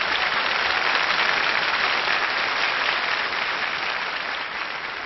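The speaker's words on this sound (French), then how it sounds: "Ça mérite vos applaudissements" Television studio audience clapping loudly and steadily, a dense sustained round of applause that eases slightly toward the end.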